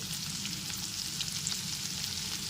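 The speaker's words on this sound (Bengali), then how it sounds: "কুমড়োগুলো দেওয়ার পর নাড়াচাড়া করে নিতে হবে" Pumpkin pieces sizzle steadily as they are stirred and fried in a pan for a vegetarian potato-pumpkin curry, a continuous close frying hiss with soft scraping, no voices.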